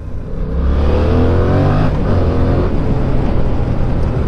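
A Yamaha MT-07 motorcycle engine revs up hard under acceleration, a loud close rising roar that climbs steadily and holds a strong throaty drone.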